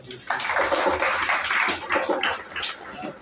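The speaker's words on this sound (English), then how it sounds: "Give more wonderful round of applause" Audience applause at a Ganesh Utsav night gathering in an ashram: a steady wash of many hands clapping close by, continuous for a few seconds with loose bursts of sharper claps and some murmuring voices underneath.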